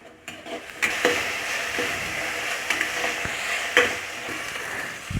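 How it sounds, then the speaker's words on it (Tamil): Steady frying sizzle of curry leaves sautéing in a pan over a low gas flame, with occasional stirring scrapes and clinks, continuous and close, no talking. "கருவேப்பிலை போட்டுக்குங்க. நல்லா வதக்குங்க."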